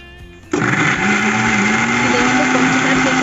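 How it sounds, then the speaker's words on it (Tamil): An electric mixer grinder jar whirs into life and grinds cooled, sautéed paneer masala ingredients to a fine paste. A sharp start is followed by a loud, steady motor whine with a slowly rising pitch. "அதனால் மிக்ஸி ஜாரில் போட்டு நல்லா நைஸாக அரைச்சிக்கிறேன்."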